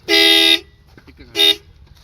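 Two loud honks of a vehicle horn, a long blast followed by a shorter one after a pause, with faint background noise between.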